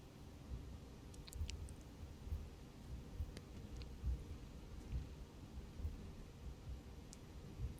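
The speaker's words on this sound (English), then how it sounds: "Looks like a thunderstorm over here to the left." Thunderstorm in the X-Plane 12 flight simulator, heard from an Airbus cockpit: a steady low rumbling wash with a few faint clicks on top, continuous and moderately quiet, with no talking.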